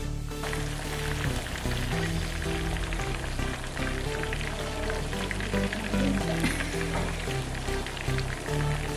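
Thattukada-style chicken deep frying in hot oil, cooked with grated coconut and curry leaves, giving off a dense, steady, loud sizzle and crackle that fills the whole span without pause, with no talking.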